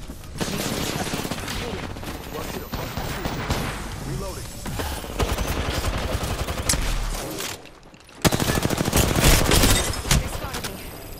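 Sustained rapid gunfire in a shooter game, dense automatic bursts rattling almost continuously with a short lull before a louder final volley, while voices talk over the shooting.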